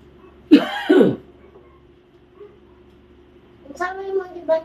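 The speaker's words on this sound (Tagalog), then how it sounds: "Okay na kini kong ubo" A person coughs twice in quick succession, harsh and close, followed by a quiet stretch and then brief speech-like voice sounds near the end.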